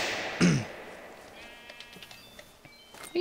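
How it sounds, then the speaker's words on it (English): A sheep in a video game gives one short loud bleat while being killed, followed by quiet clicks and faint game tones against a low background. "What are you killing sheep for?"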